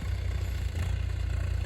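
Tractor engine labouring steadily at low pitch while a harrow is dragged through a dry, hard field, a continuous close rumble with a faint rhythmic clatter and no voices.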